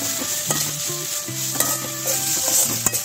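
Tomatoes sautéing with onion and ginger-garlic paste for a cabbage masala curry, a soft steady sizzle in the pan broken by repeated scraping and stirring strokes of a spoon, close and alone without talk.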